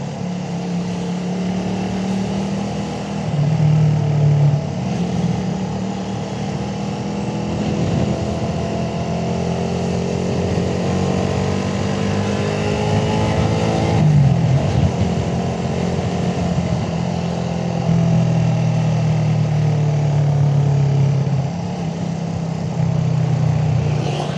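A Suzuki Raider 150 carburetor motorcycle labors up a steep road, its engine droning steadily with pitch rising and falling through repeated acceleration surges, close and continuous with wind noise.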